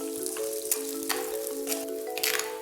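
Shallots (small red onions) fry in a pan for a spicy fish curry, giving a steady close sizzle with scattered sharp crackles and pops throughout. No one speaks.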